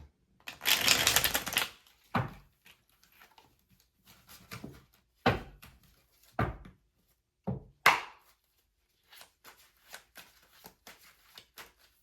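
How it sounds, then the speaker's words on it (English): Tarot cards shuffled by hand during a love reading, giving a dense riffling burst followed by several separate sharp card slaps and softer taps, close and clear with no voice. "I'm going to shuffle one more time."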